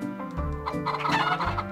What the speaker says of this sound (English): I should sell some chickens.